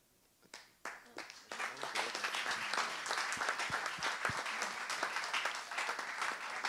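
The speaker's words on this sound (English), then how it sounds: "Another round of applause for Power Glass." Audience applause at a talk on creativity and AI, starting with a few scattered claps that swell within a second into dense, sustained clapping from a crowd, steady and fairly close.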